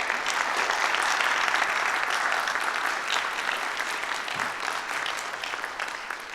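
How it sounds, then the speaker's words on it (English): Crowd at a town inaugural ceremony gives a round of applause for town officials, full steady clapping throughout that tapers a little toward the end, with no speech over it. "Let's give them a round of applause."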